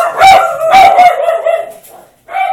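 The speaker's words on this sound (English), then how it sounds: "I think they were barking at the garbage truck outside" Household dogs barking at a garbage truck outside, two loud close barks in quick succession, then a pause and a shorter bark or whine at the end.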